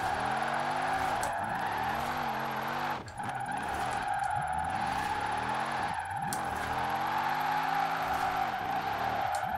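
Tires skid through a sustained all-wheel drift in Forza Horizon 4, the racing game, with a loud engine revving and wavering continuously underneath, briefly dipping near the three-second mark before surging on.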